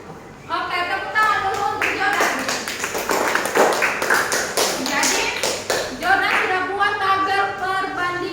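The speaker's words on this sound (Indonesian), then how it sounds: "tepuk tangan dulu untuk Jordan" A classroom of students claps for a classmate, a quick patter of many hands that swells and then fades back into children's voices talking over the room.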